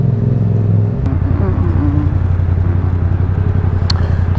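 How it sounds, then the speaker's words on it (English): A big truck's heavy engine drones steadily close by on a London road, a deep rumbling hum that holds level throughout as it rolls alongside. "It's a big old truck."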